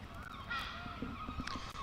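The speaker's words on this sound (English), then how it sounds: "So Adams in again to the cacophony of some seagulls that are nearby us." Seagulls call near a cricket ground during a women's one-day match, their harsh honking cries repeating over a steady background hum, moderately close and fairly clear.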